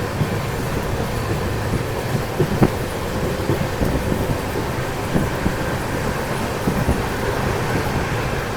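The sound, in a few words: moving train from the doorway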